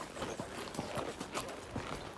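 Hooves of a ridden horse clip-clop at a steady walking rhythm, close and moderately loud, with no talking over the footfalls.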